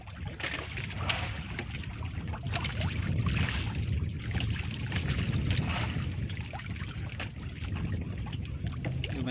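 Water laps and splashes against a small boat hull as it rocks on rough sea waves, with a low rumble of wind and faint trickling throughout.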